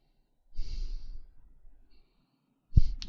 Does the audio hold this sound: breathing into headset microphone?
yes